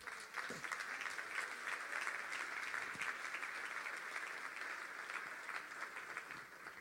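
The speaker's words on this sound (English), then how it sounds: "let's give them a round of applause." An audience applauding at a comedy show, a steady sustained wash of clapping that holds at even loudness throughout with no talk over it.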